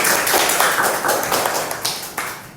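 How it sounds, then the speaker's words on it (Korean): Students applauding together in a lecture hall at the end of a class, a dense, continuous patter of many hands clapping at steady loudness throughout. "자, 박수."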